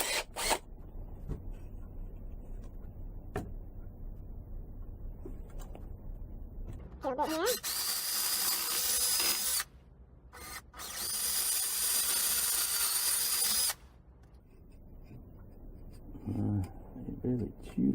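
A power drill bores into wood for a Donkey Sue whirligig, two loud sustained bursts of roughly two and four seconds separated by a brief pause, with quieter workshop handling sounds before and after.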